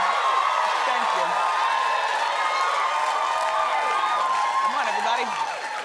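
A studio audience on a daytime talk show applauds and cheers steadily, a dense, loud wash of clapping that runs the whole time beneath a host speaking.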